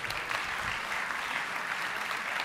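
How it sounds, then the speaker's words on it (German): A talk show audience gives sustained, even applause at a German discussion event, a dense wash of many hands clapping steadily throughout with no speech. "großartigen Applaus"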